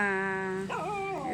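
A pet dog lets out a sustained high whine that breaks into wavering, rising and falling whimpers, close and moderately loud, in a quiet home setting with no voices.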